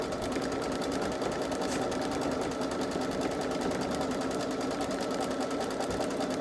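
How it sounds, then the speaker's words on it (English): A Babylock Solaris Vision embroidery machine stitches out a design on a towel, its needle drive running as a fast, steady, even whirring hum that continues unbroken and close throughout. "This is really nice how it's stitching out."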